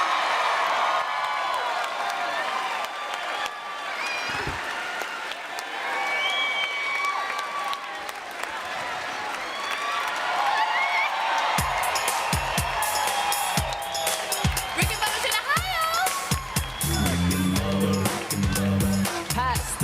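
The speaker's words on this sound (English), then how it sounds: "Give them a big round of applause right here." A live show audience in Huntsville claps and cheers. The applause grows louder and denser in the second half, with whoops over a steady crowd roar.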